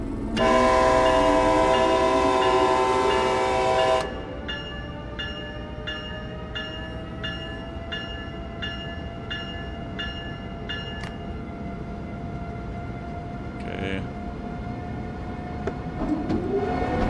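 Train running in the video game Train Sim World 6: a loud horn blast for the first four seconds, then a steady rumbling run with a rhythmic series of clicking beats and a faint horn near the end.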